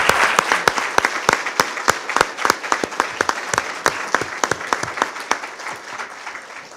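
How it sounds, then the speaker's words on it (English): Audience applause closing a panel session at a citizens' assembly meeting on drug use, a dense, lively patter of many hands with sharp individual claps standing out close by, sustained throughout. "a round of applause."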